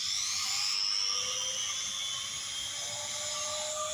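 A VEVOR trim router spins at speed with a steady high-pitched whine and a slight shift in pitch, fairly loud and continuous with no voices.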